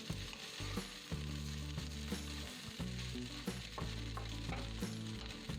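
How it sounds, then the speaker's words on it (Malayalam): Filling in a hot pan sizzles and fries continuously while a utensil stirs and scrapes it in repeated strokes, close and clear, with no talking. "ഇത് പൊടിയാണ്ട് പതുക്കെ ഇളക്കി മറിച്ച് മിക്സ് ചെയ്യണം."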